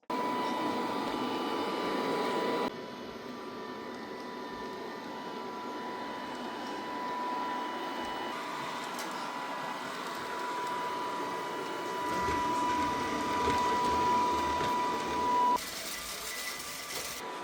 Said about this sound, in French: le EasyViz RE4 Plus a fait son nettoyage